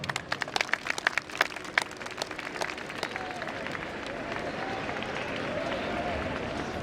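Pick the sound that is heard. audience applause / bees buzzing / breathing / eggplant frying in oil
audience applause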